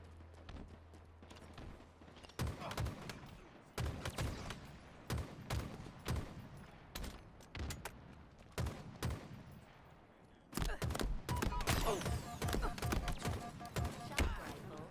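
Rapid gunfire and impact blasts from a video game shooter, dense bursts of sharp shots packed through the whole stretch, growing louder and busier near the end, with no talking.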